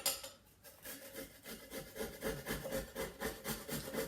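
Frozen ginger is rubbed against a grater in a home kitchen, making a quiet, rhythmic scraping with fast regular strokes that continue steadily throughout, close to the listener with no talking.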